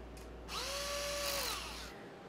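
A power tool whirs for about a second as a bolt is run into an LS 5.3 engine block, its pitch rising, holding steady, then winding down, fairly quiet and alone.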